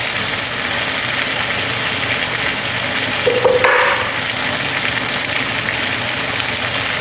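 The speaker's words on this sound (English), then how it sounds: "It's going to sear each side very quickly." A thick bone-in pork chop sears in hot ghee in a pan, a steady loud sizzle throughout, close up, with a brief scrape or clatter near the middle.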